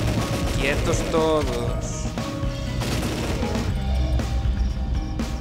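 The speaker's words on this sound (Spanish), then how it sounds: "con esta ametralladora ya es un poco más fácil" Rapid bursts of machine gun fire in the zombie-horde video game Deadly 30, crackling in quick repeated volleys with impacts mixed in, while someone speaks briefly over the shooting.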